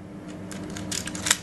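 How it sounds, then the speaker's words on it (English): A Canon A1 film camera being wound on, a short run of soft mechanical clicks and ratcheting that ends in a sharper snap, close and quiet. "wind the film on"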